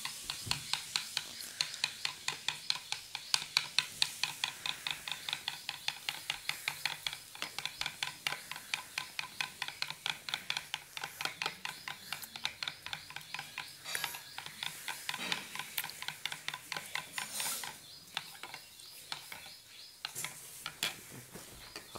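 A mixture of lemon juice and homemade hand sanitizer is whisked briskly in a bowl like beating eggs, giving a steady stream of rapid, close clicking strokes that continue without pause and with no talking.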